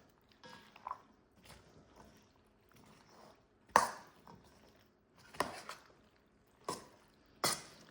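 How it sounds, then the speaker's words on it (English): Pasta salad stirred in a bowl, giving soft wet squishing and clacking strokes at irregular intervals with several sharper scrapes, fairly close and alone. "Now it's time to stir,"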